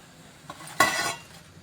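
A spoon makes one brief, close scrape and clink against a pot while tadkala pasham is stirred, with a faint tap just before.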